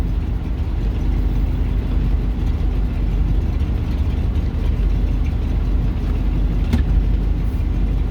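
A Buick engine idles roughly and steadily at close range, a loud low uneven rumble with a faint hum running through it, cold from a spring startup and carrying extra load from the blower.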